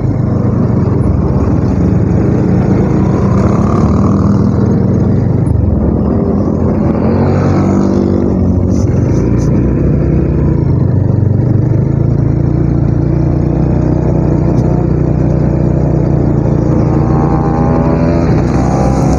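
Steady drone of many cars and motorbikes moving in a long convoy along the Banjarbaru–Mataraman cross-route road on a hot day, a continuous close engine and tire rumble with no clear gaps.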